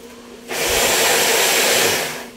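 A vacuum cleaner switches on abruptly and runs with a loud, steady broadband roar and whine, close by, with no talking over it.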